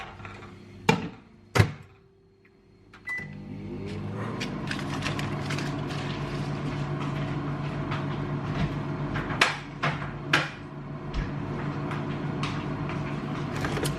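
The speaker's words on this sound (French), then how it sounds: "Vous avez le bruit du micro-ondes" Kitchen microwave oven hums steadily after a couple of door thunks and button beeps at the start, with a few clicks and knocks over the constant drone, no talking.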